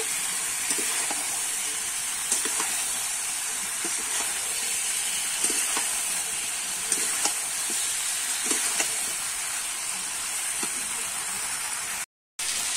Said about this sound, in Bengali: এবারে ভেজে রাখা আলু, ঝিঙে আর চিংড়ি মাছটা কিন্তু আমি একসঙ্গে দিয়ে দেব। দিয়ে কিন্তু আমি কিছুক্ষণ ধরে একটু কষিয়ে নেব।